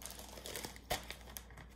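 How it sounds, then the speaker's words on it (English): Plastic packaging crinkles softly while being unpacked, a faint rustle with one sharper crackle near the middle and a few lighter crinkles after it. "There will be a fair amount of crinkling because there's packaging"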